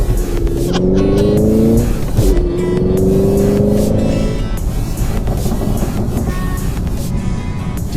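Manual V8 Chevy Camaro engine revving loudly from inside the car while driving, two rising rev sweeps through the gears followed by a steady heavy rumble.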